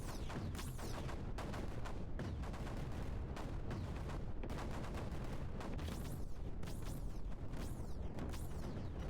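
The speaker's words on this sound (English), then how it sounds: "Just fill that area up with mortars." Mortars firing in the video game Creeper World 4, a relentless barrage of overlapping booms and whistling shell sweeps, loud and continuous with no pauses or voices.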